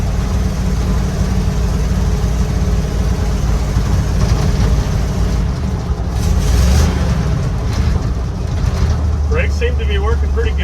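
A 1955 Chevy truck with a small block engine cruising on the road after sitting for 23 years, a steady low engine drone from inside the cab with road noise, shifting pitch midway, and brief sounds of people talking near the end.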